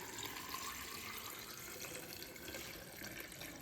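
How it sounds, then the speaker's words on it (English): Steady running water pours continuously from a tap into glass vases holding cranberries, a broad rushing splash, close and even throughout. "we're gonna fill up our vases with water"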